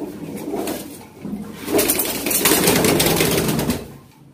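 Pigeons coo softly and repeatedly in a wooden pigeon loft on a farm, with rustling and occasional wing movement rising in the middle and fading toward the end.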